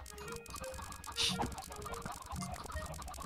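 Minecraft chickens cluck in short, soft bursts over a steady background murmur, with no talking.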